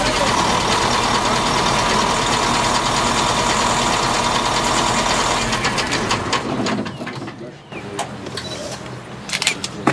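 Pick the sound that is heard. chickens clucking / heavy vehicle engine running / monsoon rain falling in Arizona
heavy vehicle engine running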